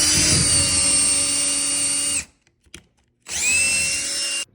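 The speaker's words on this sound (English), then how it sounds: "Now it's time to pre-drill for the anchor bolts." Power drill with a 5/32 inch bit pre-drilling into a wall for anchor bolts whines at high speed for about two seconds, stops briefly with a faint click, then spins up again for another burst.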